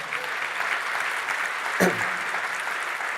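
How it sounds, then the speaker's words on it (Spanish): A congregation applauds in a church during a revival sermon, a steady wash of clapping from many hands that runs evenly throughout without a clear start or end. "Ofrecen un aplauso al Señor."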